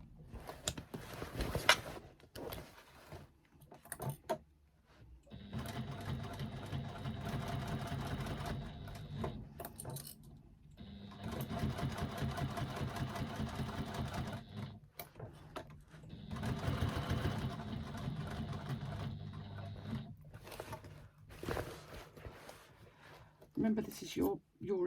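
A sewing machine stitches a bag seam with a 3/8-inch seam allowance. It hums steadily through three long runs, with short quiet pauses between them as the fabric is turned.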